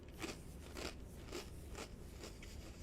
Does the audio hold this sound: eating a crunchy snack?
yes